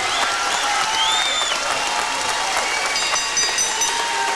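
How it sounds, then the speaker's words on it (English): Fans at a boxing event applaud the two fighters after the bout, with sustained crowd clapping and general arena noise running throughout. "let's have a nice round of applause for these 2 young men"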